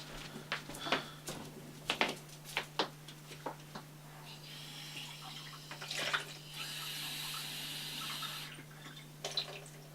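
Running tap water pours into a drinking glass for a few seconds after some clinks and handling sounds, quiet with a low electrical hum underneath.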